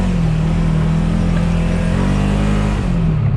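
A small car drives along a rough dirt road, its engine droning steadily and close, with low rumble and rattle from the uneven surface throughout.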